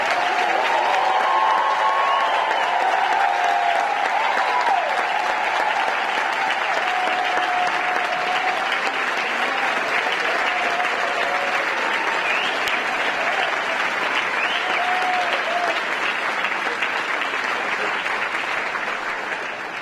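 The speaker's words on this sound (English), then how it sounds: "Would you please stand so that we can congratulate you and applaud?" A conference audience gives sustained applause for the 2019 White House HBCU Competitiveness Scholars, a dense, even wash of clapping from a large crowd that continues unbroken for about twenty seconds.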